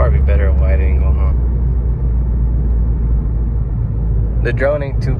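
A steady, heavy low exhaust drone fills the cabin of a moving 2019 Subaru WRX fitted with a Remark mid pipe, with someone talking over it at the start and again near the end.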